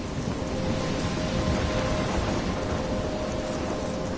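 Thunderstorm with heavy rain in the Life is Strange video game, a dense, constant roar of downpour with a low rumbling undertone, loud and continuous throughout.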